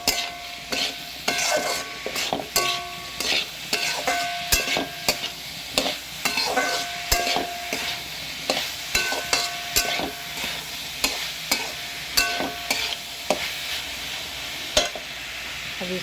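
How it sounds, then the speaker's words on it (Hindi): Food is stirred and roasted in a pan over a gas flame, with a spoon scraping in rhythmic bursts over a steady sizzle, close and fairly clear. "अब इसको अच्छे से भूंज के"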